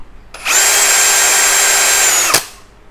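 A RIDGID Octane power drill runs at high speed in a steady whine for about two seconds, then its trigger is eased off and the electronic brake stops it with a short, abrupt drop to near silence.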